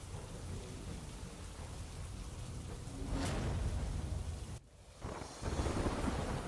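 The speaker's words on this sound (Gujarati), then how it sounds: "ગાજવીજ સાથે મોડાસામાં વરસાદ વરસ્યો" Heavy monsoon downpour with thunder in Modasa, a steady dense hiss of rain broken by a loud close thunderclap and rumbling that briefly dips and then swells again.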